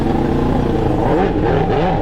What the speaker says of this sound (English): on a jet ski,